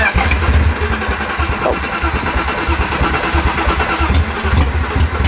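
A T18 build car engine cranks and fires for its first start, giving a loud, steady rumbling chug that carries through the whole stretch without any talking.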